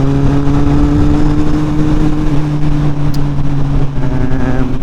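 Motorcycle ridden on roads through south-east France, a loud steady engine drone with strong low harmonic tones held close throughout, its pitch shifting slightly as the throttle changes.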